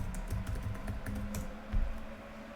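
Command typed on a computer keyboard, a quick irregular run of soft clicking keystrokes, close and fairly quiet, with a slightly heavier key press near the end.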